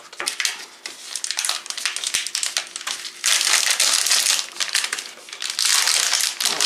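Dark chocolate bar wrapper torn open and crinkled, a Alpen Gold Max Fun bar with spiced cherry and candied fruit, producing continuous loud close crackling and crumpling that swells louder midway, with no voices.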